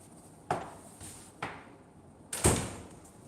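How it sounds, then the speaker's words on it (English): Metal bolts on a wooden entry door are slid and locked at top and bottom, giving a series of sharp clacks and knocks, four or five distinct hits close by, with no speech. "lock the bolt right here on both top and bottom"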